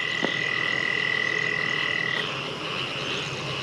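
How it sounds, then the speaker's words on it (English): A green tree frog croaking on a roadside at night, a sustained high steady trill running for about two seconds over constant background chorus and hiss, then stopping. "I think this is a green tree frog"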